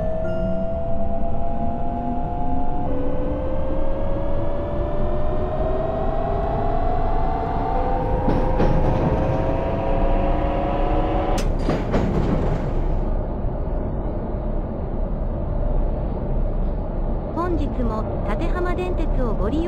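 Japanese commuter train in the simulation game Train Crew pulling away from a station and running, with a rising motor whine and steady rolling noise over the whole stretch, broken by a brief clatter midway and some speech in the background.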